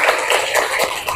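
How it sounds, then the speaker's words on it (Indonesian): A school class claps together in a classroom, a short burst of brisk, fairly close hand clapping with scattered sharper taps over a couple of seconds. "Tepuk tangan untuk kita semua."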